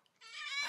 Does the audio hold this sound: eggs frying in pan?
no